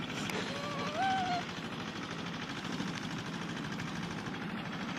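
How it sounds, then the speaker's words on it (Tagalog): A tractor engine runs on sand, a low, steady chugging throb heard from a moderate distance, with a brief whistle-like tone and faint voices early on. "Ito guys, traktora sa buhangin."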